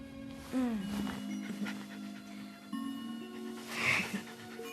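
A dog pants and whimpers close by, with short breathy bursts and a few higher whines over steady background hum; no one speaks.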